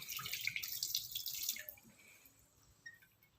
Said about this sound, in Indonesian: Lalu membilas dengan air mengalir.